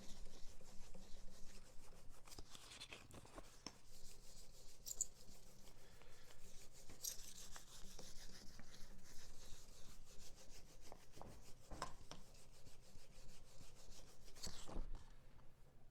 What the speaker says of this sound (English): Really just kind of polishing it is all we're doing.